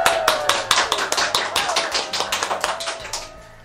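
A small group claps at the start of a broadcast, with a brisk run of evenly spaced claps that fades toward the end, close and clear with no talking.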